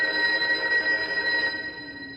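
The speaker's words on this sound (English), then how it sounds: "Alright, phone's ringing." Telephone in the game Loretta rings with a steady, bright electronic trill that holds for a couple of seconds and then fades a little, close and unaccompanied by talk.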